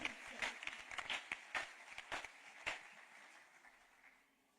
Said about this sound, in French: C'est que tu l'acclames très fort